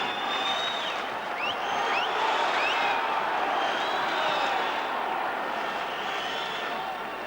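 A boxing crowd at a 1984 fight night applauds and cheers as the bout ends, a dense, steady wash of clapping and crowd noise with scattered whistles running the whole time.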